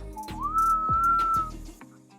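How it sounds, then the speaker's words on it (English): A man whistles a single clear note beside an open car bonnet, sliding up and holding it steadily for about a second before trailing off over a low mechanical rumble. "he just whistles this"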